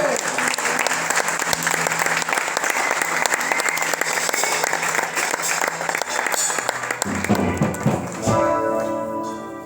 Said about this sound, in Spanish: ¿Alguien puede aplaudir a Dios por eso?